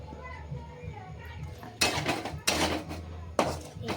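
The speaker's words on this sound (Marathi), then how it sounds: "आता आपण याच्यामध्ये टाकणार आहोत वांगी" Eggplant pieces are tipped into a pan of frying spiced masala, producing three loud bursts of hissing sizzle, each flaring up and settling back, following a stretch of low kitchen noise with a voice talking.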